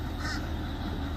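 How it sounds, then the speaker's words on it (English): A bird calls from overhead at a boat marina, a short harsh caw or two standing out over a steady low background rumble. "The bird up there making noise."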